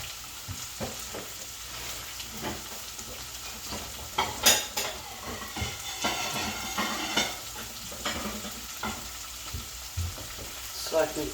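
Okra cooking in a frying pan, a close, continuous hiss of sizzling oil broken by a utensil scraping and clinking against the pan, with one sharper burst of spitting midway.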